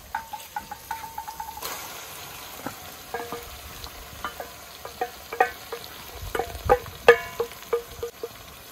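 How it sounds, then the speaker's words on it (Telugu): A ladle stirs fish curry in a pot over a farmhouse wood fire, giving a series of irregular knocks and scrapes against the vessel over a soft, low bubbling hiss, growing busier toward the end. "సో ఇప్పుడే గరిటతో ఒకసారి కలిపేసుకుంటాం"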